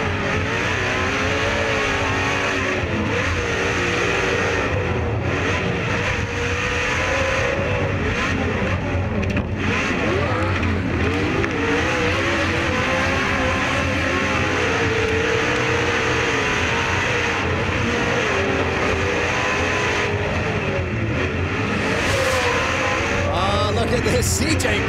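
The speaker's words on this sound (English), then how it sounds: "And these Pro 2 trucks, 900 horsepower of fury." 900-horsepower Pro 2 off-road race trucks with MagnaFlow exhausts roar around a TORC dirt track in Primm, Nevada, engines revving and surging continuously and loudly, with commentary voices underneath.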